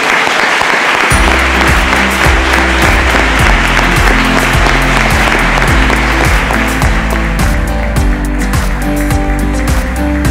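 A large audience claps loudly and steadily at a police patron-saint celebration, dense applause sustained for about ten seconds with a low rhythmic tonal pattern running underneath.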